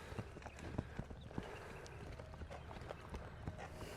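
A young horse in early training hooves along at a trot and canter, a steady rhythmic clip-clop of hoofbeats on ground that runs throughout, fairly close, with no voices.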